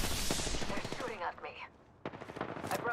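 Rapid automatic gunfire in the video game Apex Legends, loud dense bursts that briefly drop away before another sharp volley resumes, with speech-like game voices mixed in.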